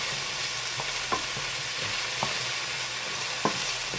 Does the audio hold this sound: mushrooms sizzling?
yes